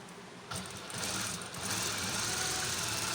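A sewing machine runs a straight stitch along a kameez seam, giving a steady close mechanical whir that starts after a brief pause and continues unbroken to the end.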